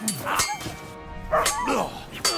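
Dog in the medieval video game Kingdom Come: Deliverance 2 yelps and whimpers as it is struck in combat, several short sharp cries with clinking and scuffling, fairly close.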